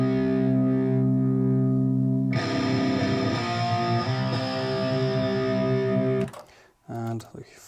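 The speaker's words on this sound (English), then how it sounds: "We'll listen to guitar, this is the second guitar." Second electric guitar track heard in a mix, a sustained distorted chord with effects that shifts into busier picked notes, then cuts off, followed briefly by a voice at the end.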